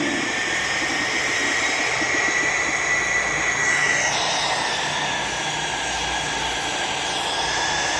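Airplane engine droning steadily inside the Infinite Flight video game while buffeted by hurricane-strength wind over Florida, a dense continuous roar with a brief shift midway, no talking.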